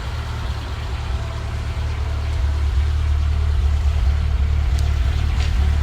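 Citroen ZX engine idling after winter storage, a steady low mechanical hum close by, running evenly and continuously with no talk.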